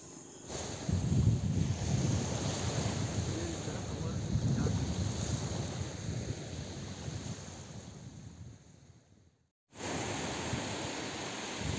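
Sea waves on the rocky shore of Madban beach in Konkan, a continuous near wash of surf with gusty wind buffeting, cutting out briefly near the tenth second before resuming.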